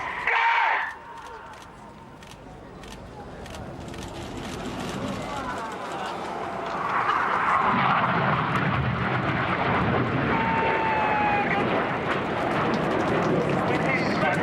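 Red Arrows display jets roll and split overhead in the Jippo break, a broad roaring jet rush that swells from about seven seconds and holds loud, with a sharper engine whine at the start and a commentator talking throughout.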